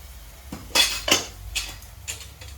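A spoon mixes paneer tikka masala gravy with added water in a metal pan, making four or five sharp clinks and scrapes against the pan over a quiet background.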